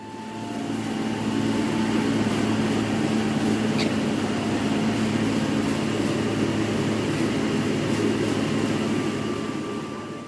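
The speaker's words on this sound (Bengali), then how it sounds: "এই যে এটা অন্য আরেকটা মেশিন এখানে ধান থেকে চাল বানানো হচ্ছে" Rice mill machine processing paddy into rice, giving a loud, steady mechanical drone with a constant hum that barely changes from start to end.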